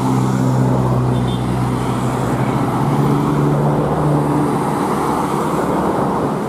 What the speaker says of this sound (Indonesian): di belakang ada bis kembali